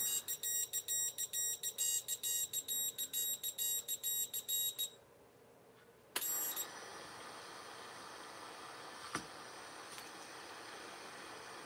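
An FPV drone's electronics beep in a rapid, loud repeating pattern of sharp tones for several seconds, stop briefly, then give way to a steady high electronic whine with a single click near the end.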